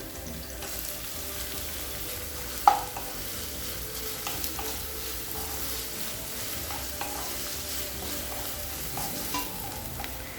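Continuous sizzling of chopped onions and green chillies frying in a hot pan with occasional stirring scrapes and clinks, steady and close, no talking.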